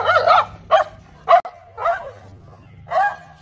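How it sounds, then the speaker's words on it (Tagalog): Dog barking compulsively, about five sharp close barks in an irregular burst with short gaps and a faint low hum underneath. "Ang tawag ko dyan, compulsive bark."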